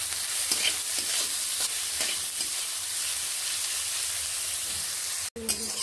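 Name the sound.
onions frying with salt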